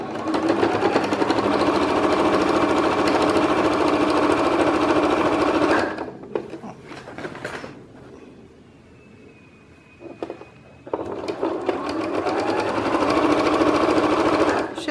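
Home sewing machine stitching a patchwork quilt piece, its steady loud motor whir running continuously, pausing for a few seconds of quiet handling with faint clicks, then starting again at full speed.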